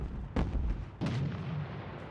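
Two heavy artillery blasts in the World War II strategy game Sudden Strike 2, the first near 0.4 s and a second a half-second later, each a deep boom trailing into a low rumble, with no talk.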